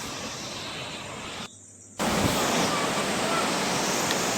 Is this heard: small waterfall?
yes